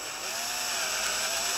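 A drill bit spinning inside a hole in a plastic headlight housing, worked side to side to elongate it on a 3rd gen 4Runner retrofit; a loud, steady high-pitched whine runs close and unbroken throughout with no talk.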